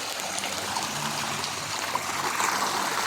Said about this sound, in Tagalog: ito yung bukal nila rito